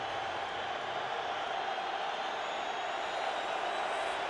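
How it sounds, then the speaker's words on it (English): A large crowd in Arizona's stadium during an NFL football game, Cardinals hosting the 49ers, roars as a dense, steady wall of noise that holds loud and unbroken throughout. "Arizona crowd getting loud."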